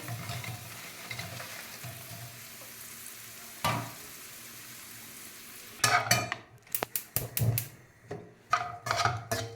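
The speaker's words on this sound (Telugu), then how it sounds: "కొంచెం అంతా వేగిపోయిందండి, బాగా కలిసిపోయింది, బాగా కలిపినాను" Cauliflower for gobi rice frying in a pan with a soft sizzle, then a burst of loud, rapid scraping and clanking as a spoon stirs it.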